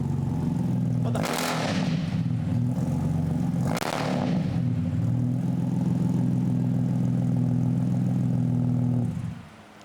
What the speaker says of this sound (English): Is that actual the sound of the fucking exhaust?